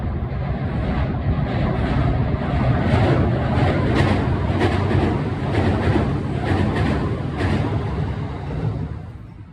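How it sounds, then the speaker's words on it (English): A train passes along an outdoor rail line nearby, a loud sustained rumble with rhythmic clickety-clack of wheels over rail joints and some wind buffeting, swelling and then easing away. "Here comes the train."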